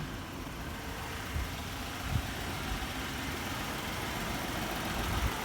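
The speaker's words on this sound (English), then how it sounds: "The motor's running fine." Ford Mustang engine idling nearby, a steady low rumble that holds even throughout with a few slight bumps and no talking.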